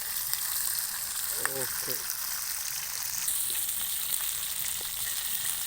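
River catfish frying in ghee in a pan gives a steady, dense sizzle that runs the whole time, with a brief spoken word partway through.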